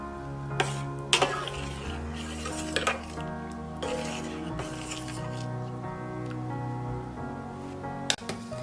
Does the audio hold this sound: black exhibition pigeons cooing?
no